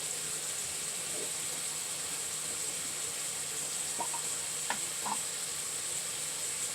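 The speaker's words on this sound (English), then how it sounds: "I'm just going to add about a tablespoon of garlic paste." A tablespoon of garlic paste sizzles in a pan: a steady, quiet hiss with a few small pops near the end, and no talking.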